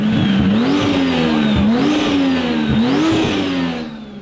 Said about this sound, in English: Can we hear the turbo a little bit?